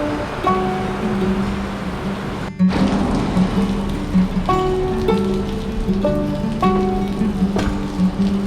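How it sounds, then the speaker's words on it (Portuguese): Rain arriving at a roadside stop in Lagoa Santa, Goiás, falls steadily as a dense, loud patter on surfaces, continuous throughout with a brief break partway and faint tonal sounds over it, no talking. "E a chuva chegando."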